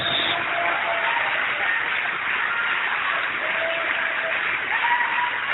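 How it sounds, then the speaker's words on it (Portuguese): Steady, sustained applause from a large church congregation fills the space, even and continuous throughout. "Vamos aplaudir muito, igreja."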